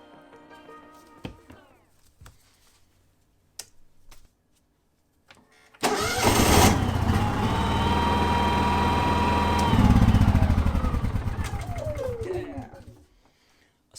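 Honda EU70is generator firing up after faulty cut-out trouble: a few clicks and short cranking bursts, then the engine catches loudly at once and runs at a steady drone, rising briefly before winding down and stopping near the end.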